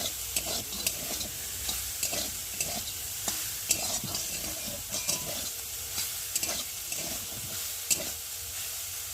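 Soya chunks sizzle steadily in a hot pan while a spoon stirs them, with repeated scraping clicks; no one speaks.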